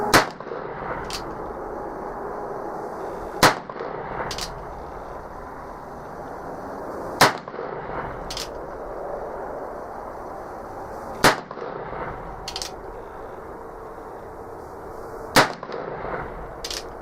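Five loud .45 Long Colt gunshots loaded with Blackhorn 209 powder, sharp cracks spaced about four seconds apart over a steady outdoor background rumble.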